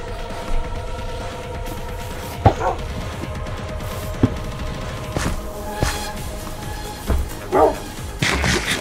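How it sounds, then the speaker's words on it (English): Several dogs bark in a video game, with short yips and barks scattered across a busy game soundscape, moderately loud amid other effects. "You have a lot of dogs."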